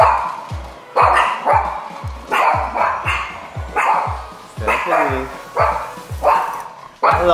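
Several dogs bark in repeated sharp bursts at close range, a loud, irregular run of woofs and yips, with a person's voice mixed in among them.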